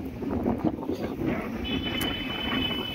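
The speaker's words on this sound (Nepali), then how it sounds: "यहाँको यो हावाको बेग देखेर अति नै हावाको बेग एकदमै मान्छे उडाउला जस्तो छ।" Strong wind buffets the microphone in Marpha village in Mustang, a continuous rushing roar with gusty swells, close and fairly loud, with no clear voices.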